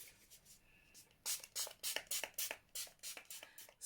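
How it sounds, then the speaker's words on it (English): A series of short, quick spray bursts from a pump mist bottle of Makeup Revolution oil control setting spray, about a dozen close hissing puffs in an uneven rhythm after a quiet second. "I'm going to use my Makeup Revolution oil control setting spray."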